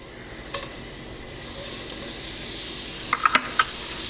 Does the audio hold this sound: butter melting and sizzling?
yes